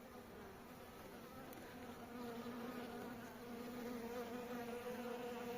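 A dense, steady buzz of many honey bees close by at an open hive, humming continuously and growing slightly louder partway through.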